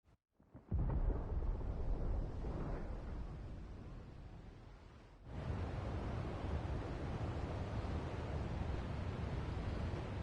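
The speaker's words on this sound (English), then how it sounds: "Sounds like thunder." Rumbling thunder in the video game Final Fantasy XVI, a loud broad roll that swells early, dips briefly, then surges again and holds steady to the end, with no talking.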